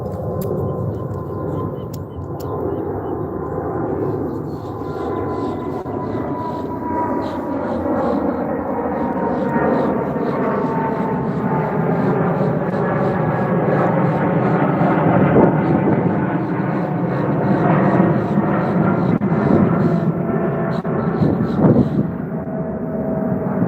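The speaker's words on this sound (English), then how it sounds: "I'm gonna let the plane pass." An airplane passes overhead outdoors, a broad continuous roar that swells and lingers for over twenty seconds, with a low rumbling drone throughout.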